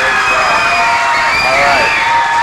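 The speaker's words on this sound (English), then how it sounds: "Give yourselves a round of applause." Children and adults in a school audience cheer and shout at an International Day music performance, a dense, steady wall of crowd noise with whoops over it, loud and close throughout.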